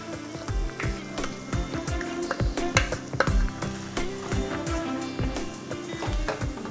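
Grated raw mango mixed with jaggery is stirred in a hot pan, producing a continuous sizzle with rapid repeated scraping strokes, close and steady with no talking.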